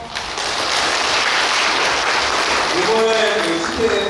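An audience claps at a Buddhist temple service, with steady, continuous applause filling the hall, while a voice talks over it near the end.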